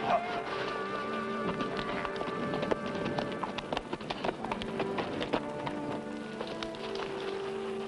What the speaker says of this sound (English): What's the matter with your horse?